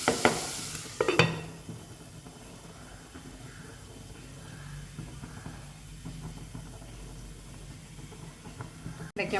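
Sardine peera, a Kerala dish of fish with tomato and grated coconut, cooking in a covered pan: soft steady sizzle with brief scraping stirs and a lid clatter at the start.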